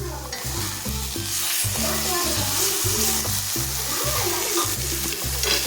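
Masala frying in oil in a pan for fish curry, a loud steady sizzle with rhythmic stirring strokes repeating about twice a second, close and without speech.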